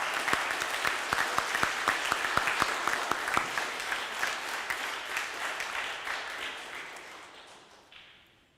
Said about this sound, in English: Please join me in giving a round of applause to the 7th grade class for completing these community projects